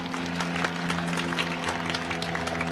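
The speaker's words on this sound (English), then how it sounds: "A round of applause for our educators." Audience applause for the educators at a Class of 2024 commencement ceremony, a continuous crowd of hands clapping at moderate distance, steady and dense for the whole stretch over a faint background hum.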